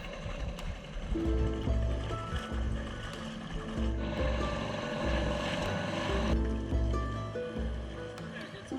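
Motorized dinghy ride while exploring near rocks on a sailing trip: a steady outboard drone and rushing water and wind noise, loud and continuous throughout.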